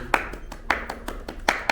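A few people clapping in a small room, a sparse handful of sharp claps in an uneven rhythm, fairly close, with faint voices in the background.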